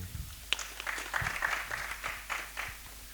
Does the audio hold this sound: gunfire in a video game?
no